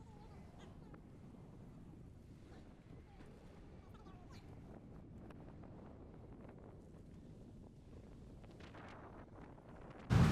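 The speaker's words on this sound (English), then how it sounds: "Wind is blowing hard right to left." Hard wind gusts from right to left across an executive golf course in The Villages, Florida, producing a steady close rushing roar against the microphone, with a sharp louder buffet at the very end.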